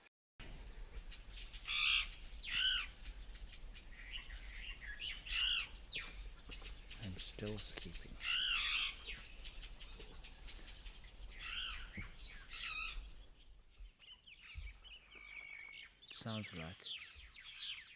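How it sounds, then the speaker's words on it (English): A noisy Burchell's starling calls alongside another small bird, giving repeated sharp chirps and whistled notes in bursts over steady background noise, with a person talking briefly. "a noisy Burchell starling with another small bird taking dictation"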